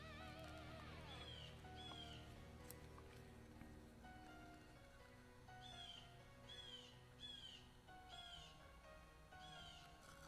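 Birds calling outdoors, repeated sweeping chirps in short bursts against a steady low background hum, soft and somewhat distant.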